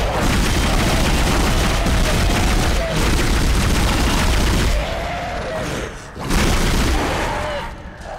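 Pulse rifle fire from the video game Dead Space, a dense, loud stream of rapid shots and booms that drops off briefly around a reload before resuming.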